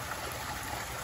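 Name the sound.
koi fish pond waterfall trickling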